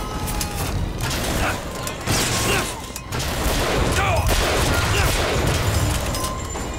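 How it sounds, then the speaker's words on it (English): Gunfire and mechanical weapon clatter from the video game Bioshock Infinite rattle in dense, continuous bursts over a busy combat din, loud and close, with faint voices mixed in. "Someone else is shooting at me"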